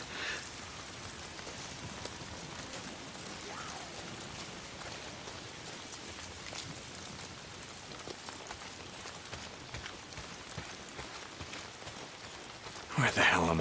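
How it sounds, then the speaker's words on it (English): Steady rain patters down in the Days Gone video game, a soft continuous hiss of drops on the ground with faint scattered thuds and a brief louder burst at the end. "Damn rain. If it's not the freaks, it's the goddamn rain."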